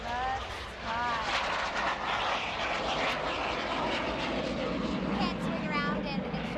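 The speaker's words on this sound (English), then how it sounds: "What airplane just took off? That's an F-86 Sabre jet." An F-86 Sabre jet takes off at an air show, its engine roaring loud and continuous as it passes, with voices audible beneath the noise.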